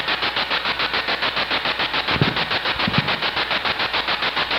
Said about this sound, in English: let's go ahead and turn the spirit box off for now